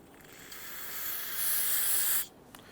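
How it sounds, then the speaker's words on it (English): Spray solvent hissing from an aerosol can onto the lower intake gasket surface of a 2011-2017 Nissan Quest 3.5L V6, one continuous close burst of about two seconds that swells and then stops abruptly. "Use some spray solvent."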